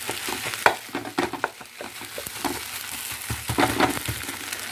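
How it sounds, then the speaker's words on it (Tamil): Kottu parotta being chopped on a hot griddle with a tumbler and a dosa ladle, irregular rapid metallic clacks and scrapes over a continuous sizzle, close and fairly loud. "இப்போ ஒரு டம்ளராக ஒரு தோசை கரண்டியை வச்சு இப்படி நல்லா கொத்து போட்டுக்கோங்க"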